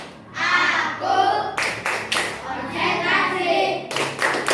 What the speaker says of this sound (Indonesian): Oke, tepuk konsentrasi.